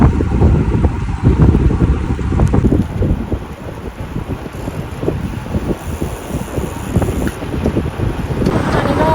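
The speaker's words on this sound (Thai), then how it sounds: "ลมแรงเหมือนกันนะ" Strong wind roars across the microphone while cycling on a motorway expressway in Nakhon Pathom, a loud continuous buffeting rumble that surges and eases throughout, with no talking.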